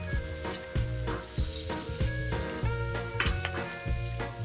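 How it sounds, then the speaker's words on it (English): Cuban sandwich frying in butter in a pan, a continuous close sizzle broken by repeated soft utensil knocks and pressing sounds, no talking. "Put the sandwich in on that butter."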